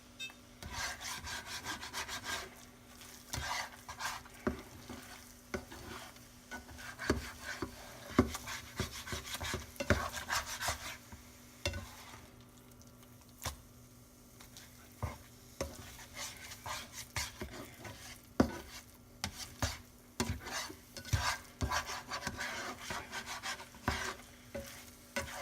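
Scrambled eggs fry in a pan while being stirred, producing irregular scraping and rubbing strokes over a soft, steady sizzle, close and moderately quiet.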